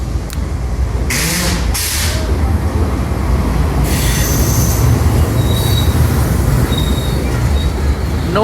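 A goods train led by a GU40 locomotive rolls through Sahiwal railway station in Pakistan, a loud continuous rumble of wheels on rails with several bursts of high metallic wheel squeal.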